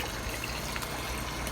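Water drains out of IBC fish tanks in an aquaponics farm fish house, a faint steady trickle and gush running continuously.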